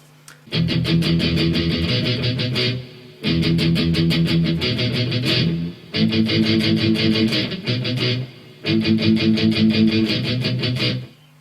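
Four bursts of chugging, palm-muted electric guitar downstrokes, each a couple of seconds of tight rhythmic strumming separated by brief pauses.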